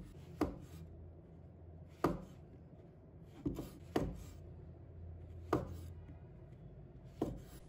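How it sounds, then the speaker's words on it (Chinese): A knife cuts fresh shiitake mushrooms into small pieces on a board, making six sharp, close chops at irregular intervals against a quiet background, with no voices. "再准备几个鲜香菇，把它切成小块"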